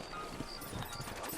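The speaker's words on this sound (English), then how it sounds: "You ain't gonna find sturdier horses than these in all of New Austin." Horse hooves clip-clop steadily in the Red Dead Redemption video game, set in New Austin, with a continuous rhythmic patter under a dense wash of ambient game sound.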